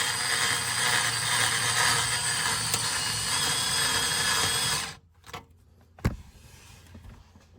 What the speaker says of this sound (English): now I'm getting ready to drill the holes